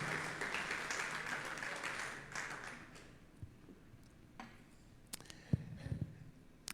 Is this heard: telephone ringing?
no